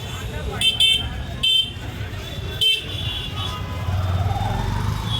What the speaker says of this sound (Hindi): हॉर्न यहाँ सबको बड़ा पसंद है। दिल्ली में सबसे कॉमन चीज़।